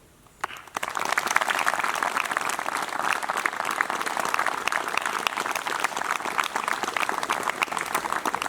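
Sustained applause from an audience at a scout lodge call-out ceremony, steady dense clapping rising quickly after a brief quiet start and continuing evenly throughout.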